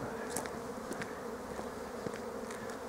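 Honey bees buzz steadily at an apiary in March, a dense continuous drone of many insects with individual bees passing close now and then.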